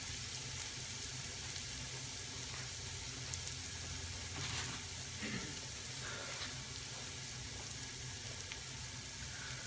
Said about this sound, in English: And all we want to do is finely saute this on a medium heat, just so we can caramelize it.